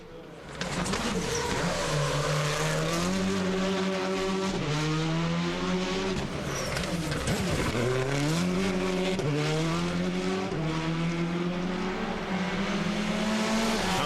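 A Citroën Xsara rally car drives hard on a rally stage, its engine loud and continuous as it revs up and drops through repeated gear changes.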